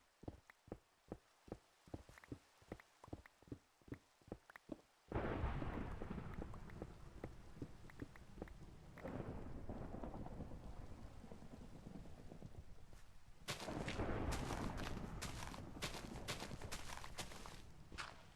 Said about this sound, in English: This is the most active thunderstorm I think I've ever heard in this game.